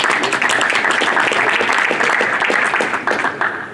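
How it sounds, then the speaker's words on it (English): Applause from the audience at a boxing press conference, a dense burst of clapping close and loud that tapers slightly near the end. "We'd like to give him a round of applause for being here today."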